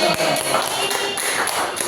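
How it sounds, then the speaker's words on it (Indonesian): Classroom applause from students clapping hands together after a teacher's recited pantun, a dense run of overlapping claps lasting under two seconds. "Tepuk tangan."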